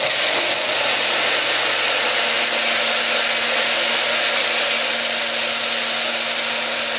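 A mixer grinder whirs loudly and steadily, blending mango milkshake in a closed jar: a constant high motor whine with grinding texture and no voices.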